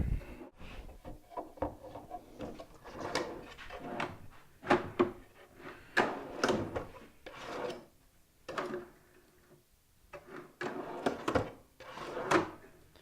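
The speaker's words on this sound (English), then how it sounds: "I'm going to go ahead and fix the drawer." A wooden drawer on newly mounted drawer slides is adjusted and slid in a workshop, giving repeated scraping, rubbing knocks and sliding rasps in irregular bursts, fairly close and without talk.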